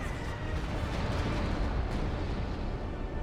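Heavy, continuous artillery barrage in Company of Heroes 2, a dense rumbling roar of overlapping blasts that stays loud and steady throughout with no pause.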